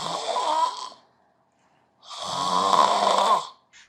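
A person snoring during sleep: two long, loud, rasping snores separated by a second of silence, with a faint start of a third at the end. No talking.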